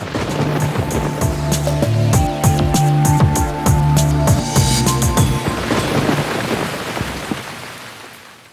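Heavy monsoon rain pours down around Aurad Shahajani village in Nilanga taluka, Latur district, a steady loud wash with scattered sharp spatters and a low rumble, no talking, gradually easing toward the end.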